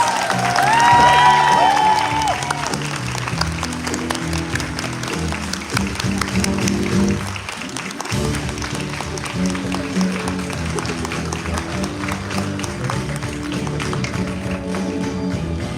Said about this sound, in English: One more round of applause for our team of Imagineers!